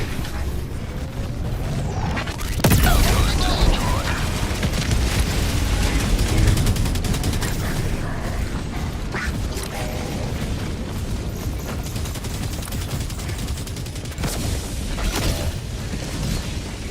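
Mortar sentry in the video game Helldivers 2, booming launches and distant explosive thuds amid dense, rumbling battle noise, loud and continuous.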